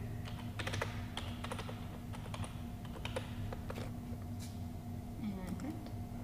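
A password is typed on a keyboard: quick clusters of light key clicks in short bursts, close and moderately loud, with a faint steady hum behind and brief speech nearby.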